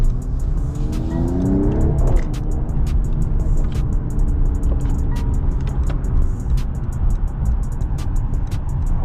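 A Mercedes-AMG with a 420+ hp engine drives through downtown Toronto, its exhaust rumbling loudly and continuously up close, with a rising rev sweep and scattered crackling burbles and pops throughout.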